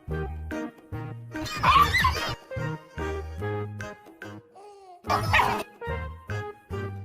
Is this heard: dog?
yes